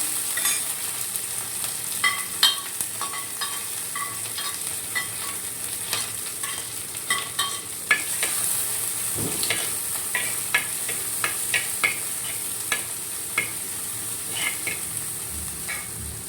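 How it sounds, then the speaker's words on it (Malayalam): Green chili, curry leaves and dried chili sautéing in a pan for Kerala puli inji curry, with a steady soft sizzle and scattered crackles and spoon-stir clicks throughout, no talking. "പച്ചമുളക് ചെറുതായിട്ട് അരിഞ്ഞത്, കറിവേപ്പില, ഉണക്കമുളക് ഒരു പാനിലേക്ക് നന്നായിട്ട് വഴറ്റിയെടുക്കുകയാണ്"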